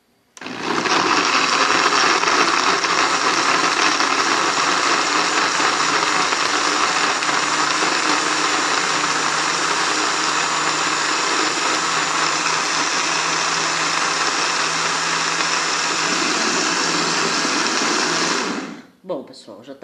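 An electric blender runs at full speed, whirring fruit fly bait mixed with a little water, a loud steady roar lasting nearly twenty seconds before cutting off abruptly.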